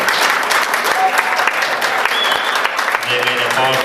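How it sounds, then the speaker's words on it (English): A gala audience breaks into loud, sustained applause for two filmmakers, dense clapping rolling on close and full throughout, with a voice briefly rising near the end. "Please give a big hand of applause to Sally Marr and Peter Dudar."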